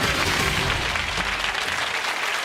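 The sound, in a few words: studio audience applause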